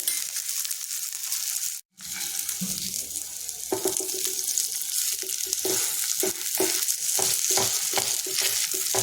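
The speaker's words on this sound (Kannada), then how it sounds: "ಕೆಳಗಡೆ ಎಣ್ಣೆ ಹಾಕಿದ್ದೀನಿ ಮತ್ತೆ ಬೇಕಿದ್ರೆ ಎಣ್ಣೆ ಇದಕ್ಕೆ ಹಾಕ್ಕೊಬೋದು ರೋಸ್ಟ್ ಆದರೆ ಆಯಿತು" A vegetable snack roasts in oil in a pan, giving a steady close frying sizzle with repeated scraping and stirring clicks, briefly cut off by a short silent gap early on.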